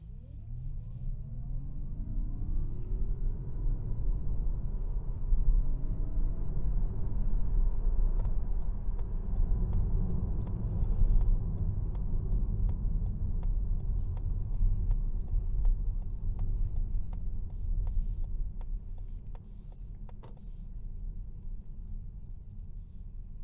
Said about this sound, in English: So from here I'll just do a little bit of driving.